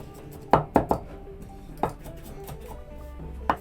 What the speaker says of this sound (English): With your knife, you'll just want to mince it as small as possible.